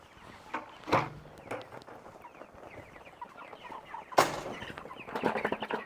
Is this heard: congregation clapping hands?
no